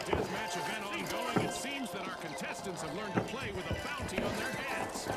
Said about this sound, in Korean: 아직 발소리 나요.